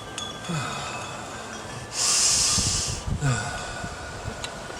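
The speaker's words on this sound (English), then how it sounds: "Breathing loudly." Loud, heavy breathing with snorting, hissing breaths close up, including one sharp, bright exhale burst in the middle and several softer snuffling breaths around it.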